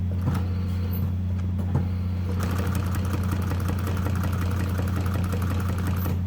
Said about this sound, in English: I'm not sure if it'll sew through this much fabric.